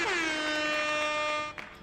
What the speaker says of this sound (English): I need to give you an air horn.